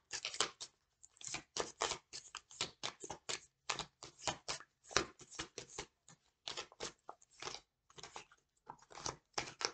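Oracle cards being shuffled by hand in quick, irregular bursts of crisp riffling and slapping, close and fairly quiet, with short pauses between runs and no voice.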